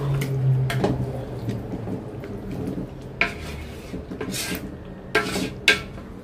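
Pots, dishes and cutlery being washed of leftover bits in a home kitchen, with clinks and scrapes and splashing water in irregular bursts and a few sharper knocks.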